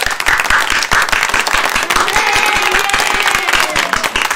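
A live podcast audience breaks into loud, close applause with cheering voices mixed in, a dense continuous clatter of hands lasting the full four seconds.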